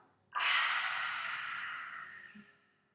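A single long breath, a short nasal inhale followed by a breathy open-mouthed exhale that fades gradually, close and quiet.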